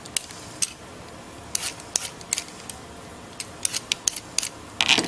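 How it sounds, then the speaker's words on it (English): Short, irregular scraping strokes of a peeler taking the skin off a pear, crisp and close, coming in quick clusters with brief pauses between them. "You're going to just peel your pear the way you would a potato, an apple, any other vegetable"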